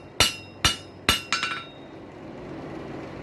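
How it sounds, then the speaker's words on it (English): A hammer strikes a stainless steel pipe on an anvil during forging: four sharp, ringing metallic blows with brief echoing decay, the last one bouncing quickly, then quiet shop ambience. "You let the impact of the weight of that hammer hit something solid, which is your anvil."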